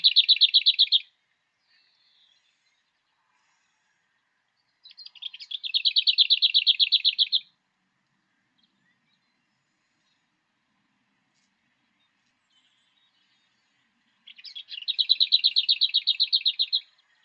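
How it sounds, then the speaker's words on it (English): Three bursts of lesser whitethroat song separated by long silences, each a brief soft warble leading into a fast, dry, strident rattle. "Lesser whitethroats start with a soft warble before launching into a strident rattling sound."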